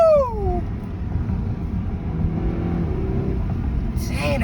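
Manual Audi car accelerating hard at night, engine revs sweeping down after a shift then a steady throaty pull building again, loud interior sound with a brief voice near the end.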